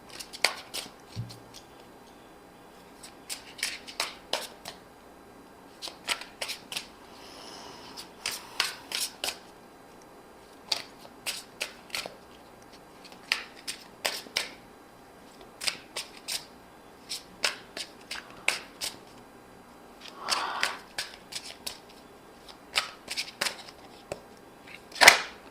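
Tarot cards are handled and shuffled in repeated short clusters of crisp snapping and riffling, close by, with brief pauses between bursts.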